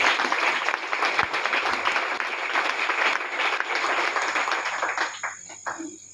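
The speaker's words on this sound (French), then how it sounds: "Et je voudrais que vous vous acclamiez." An indoor crowd at a women's support gathering applauds loudly and steadily, a dense wash of clapping and cheering that holds for several seconds and then thins out near the end.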